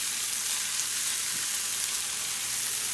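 Tomatoes roast in a hot pan for homemade salsa, giving off a steady, close hiss of sizzling that holds evenly throughout with no talking.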